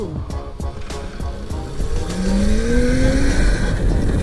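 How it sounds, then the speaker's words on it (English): A Tuttio e-bike motor whines loudly while riding, with rising tonal pitch sweeps over steady road and wind rumble that grows louder partway through. "Why is the motor so loud?"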